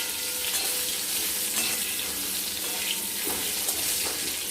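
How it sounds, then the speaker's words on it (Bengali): Potatoes frying in a pan with turmeric and salt give a steady, close sizzle, with occasional scraping and clinks from stirring and no one speaking. "এটাকে আমরা লাল লাল করে ভেজে নেব"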